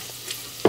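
Leeks dropped into a pan of rendered bacon fat with cooking bacon, a soft background sizzle that swells into a sudden loud hiss as they hit the fat near the end.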